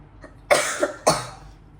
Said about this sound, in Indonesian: Sorry, aku lagi batuk.